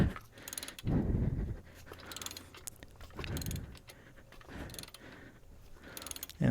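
Hand ratchet cranking a spring compressor on a GM front strut from a Chevy Cobalt or Pontiac G5, heard as close, repeated bursts of ratcheting clicks with short pauses between strokes.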